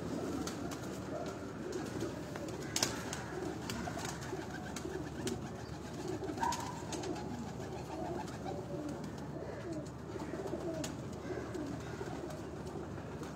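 Soft cooing of breeder pigeons on a rooftop in Gulberg, Lahore, rises from a steady, busy outdoor background, with a few faint clicks and knocks scattered throughout.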